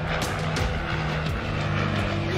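Water bomber aircraft engines throttling up while scooping water in a bay, a loud dense roar with rising tonal whine and rushing wash throughout.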